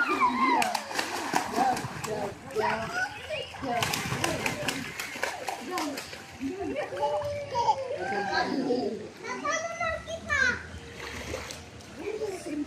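Children bathe and splash in resort pool water, repeated splashes and kids' shouts and chatter overlapping throughout, lively and fairly close with other voices mixed in.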